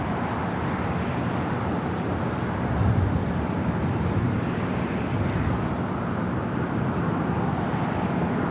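An Air France airliner, flight 23 in from London Heathrow, arrives at LAX on the north side, giving a steady, continuous broadband jet roar at moderate distance that holds throughout with a slight swell near the middle.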